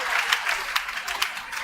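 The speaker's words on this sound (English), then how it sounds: "I would like you to clap for yourself for being a wonderful audience" An audience at a Lagos State pension commission event applauds, a short burst of brisk, fairly close clapping with distinct sharp claps standing out.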